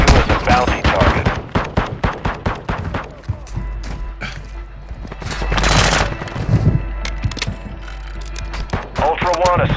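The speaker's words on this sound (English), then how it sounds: "You are taking effective fire." Rapid gunfire bursts and scattered single shots in Call of Duty: Modern Warfare II, loud and close, with booms and voices talking among the shooting.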